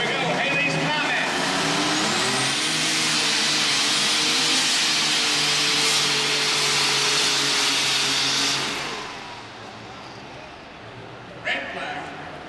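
A lightweight super stock pulling tractor running on alcohol roars loudly and continuously at a pull event, then fades away toward the end, with announcer-style talk over it.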